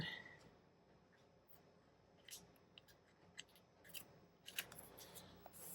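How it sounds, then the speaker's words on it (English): Scissors snipping through the overhanging protective cover material of a notebook, giving a few quiet, sharp crisp cuts and clicks scattered over several seconds against a faint background hiss, with no talking. "I'm going to find where it would be a crease. I'm just going to cut it."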